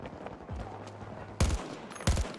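Burst-fire DMR rifle shooting in a video game: two sharp, loud bursts of rapid shots about half a second apart, clearly standing out above quieter background game noise.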